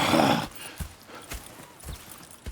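Horses in the open-world western game Red Dead Redemption 2 give a short snorting whinny, followed by a few soft, evenly spaced hoof thuds at close range.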